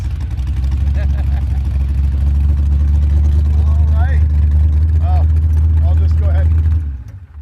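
1985 C4 Corvette-based kart engine idling with a steady deep rumble, loud and close, holding for several seconds before cutting off near the end, with faint voices over it.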